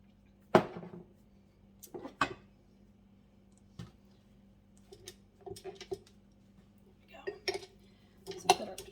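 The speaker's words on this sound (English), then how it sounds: "swap this for the paddle attachment" A stand mixer's attachment is swapped for the paddle attachment. A handful of metallic clinks and clanks come at irregular intervals, with quiet pauses between them and no voices.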